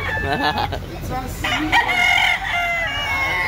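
A rooster at a market line in Carbon, Cebu City lets out a crow over steady crowd chatter and background bustle, its harmonic call rising and holding briefly near the middle.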